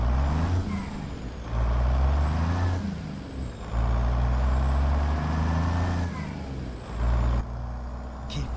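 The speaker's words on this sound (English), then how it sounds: "Let's hear that induction and that little turbo chirrup." Heavy truck engine in American Truck Simulator with the Zeemods sound mod, loud and close, rising in bursts with induction roar, a faint high turbo whistle over it and brief dips between pulls, no talk.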